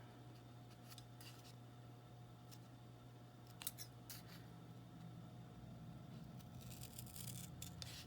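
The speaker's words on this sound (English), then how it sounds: "let's go ahead and cut this out." Scissors cut through a piece of craft material indoors, giving faint, intermittent snips over a steady low background hum, with no voices.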